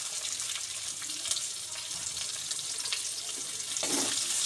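Chopped onion sizzling in hot oil in a pan, after meat was browned in it, cooking for a Bengali doi chicken; a steady, bright hiss with small crackles, close and continuous, no voices.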